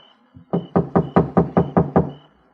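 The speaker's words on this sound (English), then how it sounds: "But nobody answered my knock." Knocking on a house door at night, seven firm evenly spaced raps, close and clear, with a faint soft thud just before them.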